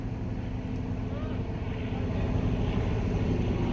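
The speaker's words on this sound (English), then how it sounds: "It's the engine's kick-starting up now." A heavy diesel train engine, the Blue Pullman at York, drones and rumbles continuously at a steady level while revving, gradually growing a little louder, with a low mechanical throb.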